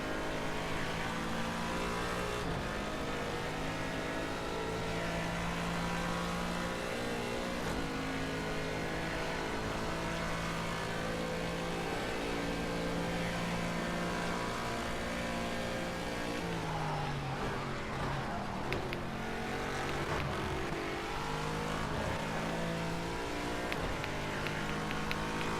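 Car engine in a driving video game, a steady droning hum with layered tones holding constant throughout, shifting pitch partway through as the car changes speed.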